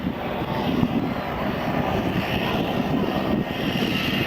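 An aerobatic plane with a 400 hp Vedeneyev engine performs at the 2003 Andrews AFB air show, a loud, steady propeller-engine drone held throughout without any voices.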